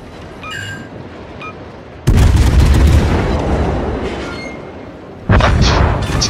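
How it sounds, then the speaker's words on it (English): A World of Warships battleship main-gun salvo: after a quiet stretch with faint clicks, a huge booming blast hits and rumbles on for seconds, then a second heavy report erupts near the end, loud and close with no talking. "Just one salvo to finish the Yamato"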